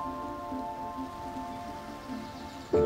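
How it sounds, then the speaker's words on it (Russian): Rain falls steadily in a forest, a soft, constant patter on leaves and other surfaces. A sudden louder sound breaks in at the very end. "Шум ветра или дождя в кронах деревьев."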